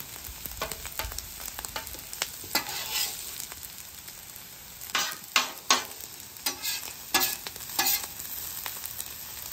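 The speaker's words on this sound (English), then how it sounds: "See that fried rice action right there?" Rice fries in a hot pan for a Hawaiian steak dish, a steady crisp sizzle under repeated scraping stir strokes that come in uneven bursts, close and fairly loud, with no voices.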